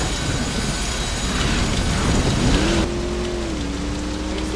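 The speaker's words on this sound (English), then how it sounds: "It's still raining." Steady rain hiss fills the clip alone, loud and continuous, with a low car engine hum rising and shifting underneath, from driving in the video game Saints Row.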